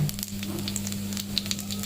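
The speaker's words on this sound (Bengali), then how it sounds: "এক চামচ সাদা জিরে ফোড়ন দিয়ে দেবো" Cumin seeds crackle in hot mustard oil in a kadai as a tempering for pea dal. Scattered pops and a light sizzle sit over a steady low electrical hum.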